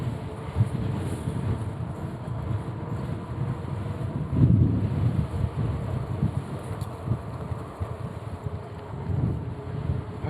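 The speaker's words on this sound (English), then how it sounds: "I think it's just getting more windy or windier" Steady low rumbling wind buffets the microphone during a bike ride along West Beach Boulevard in Gulf Shores, with a stronger gust swelling briefly near the middle, no voices.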